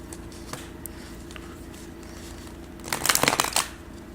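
After a quiet stretch, a short burst of cards shuffling rattles up close, brisk and crisp for about half a second.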